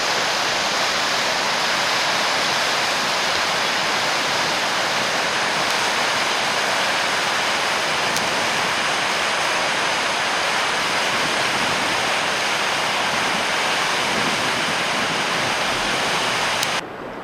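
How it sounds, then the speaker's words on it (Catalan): Niagara River rapids between the American and Canadian banks: a loud, steady, broadband roar of rushing whitewater that fills the whole clip without letup, with no voices. "tot seguit ens trobem amb els ràpids del riu Niagara"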